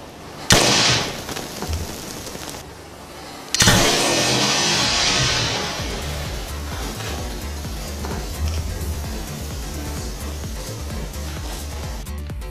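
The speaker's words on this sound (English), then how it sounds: "that was a crazy explosion" Bullets thrown into a large pot of molten aluminum burst with two sharp, loud explosive cracks, followed by a long sizzling, crackling hiss and scattered pops that gradually fade, with no talking.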